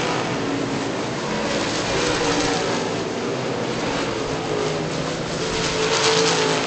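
Late model race cars lap a track in a steady, distant engine roar that swells slightly as they pass, with no voices heard.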